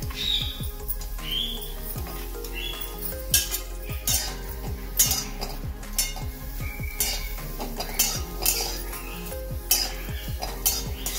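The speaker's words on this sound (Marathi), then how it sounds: "आता आपण कांदा भाजून घेऊया." Onion is roasted and stirred in a pan for a village-style chicken curry cooked over a wood-fired stove. Repeated clanks and scrapes of a spoon against the pan ring out over a low sizzle, close and rhythmic.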